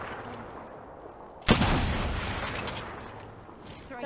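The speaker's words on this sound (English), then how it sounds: "I hear fighting over here, right here." A sudden burst of gunfire erupts midway through an Apex Legends match and is followed by a sustained rattle of shots. The firing sounds fairly close over a low background, and no one speaks.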